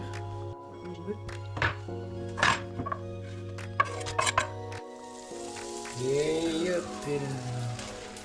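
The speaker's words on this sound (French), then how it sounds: "Maintenant, on va faire cuire les épinards." Spinach cooks with butter and garlic in a covered pan, giving a soft, steady sizzle with faint crackles beneath a person talking, the frying growing a little louder toward the end.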